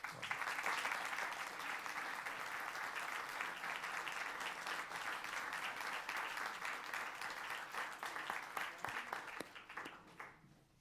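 Warm audience applause at a spring investiture ceremony at Government House, with sustained dense clapping for about ten seconds that thins and fades out at the end.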